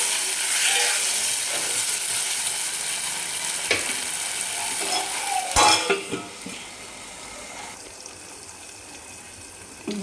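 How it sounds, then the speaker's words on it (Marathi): Potatoes sautéing in a spice masala in a pan for a masoor dal dish, a continuous close sizzle broken by utensil clinks and scrapes, quieter toward the end, no voices. "आपल्याला याच्यामध्ये बटाटे टाकायचे आहेत, पाणी काढून घेतले. आणि छान परतून घ्यायचे"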